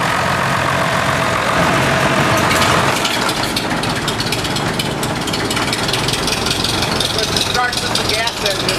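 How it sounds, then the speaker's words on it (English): A vintage tractor at the Red Power show, restored by Danny Anderson of Pine Island, Minnesota, idles after starting on gas and switching to diesel, a loud, steady, close-up engine rumble with crackling noise throughout. "Starts with the gas engine, then you'll let it kind of smooth out a little bit and warm up a little bit, and then you switch it over to diesel"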